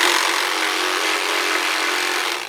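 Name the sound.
Sawzall reciprocating saw cutting through pipe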